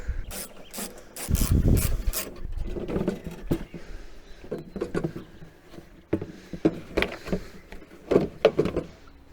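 Ratchet wrench undoing the two bolts that hold a lawnmower fuel tank, bursts of rapid clicking pawl strokes close up, pausing and resuming in short irregular runs.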